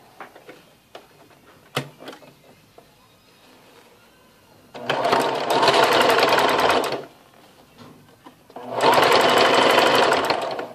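A sewing machine stitches a folded fabric seam in two loud, steady runs of several seconds each, with quiet handling sounds and small clicks before the first run.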